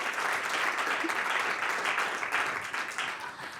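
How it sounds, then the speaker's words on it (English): A conference audience gives a brief, even round of applause, a wash of many hands clapping at moderate distance and fairly soft, with no talk over it. "So a big round of applause"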